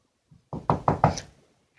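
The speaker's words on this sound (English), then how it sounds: "There's a knock on the door." A door is knocked on with four firm, evenly spaced raps, close and loud, preceded by a faint soft tap and with no talking.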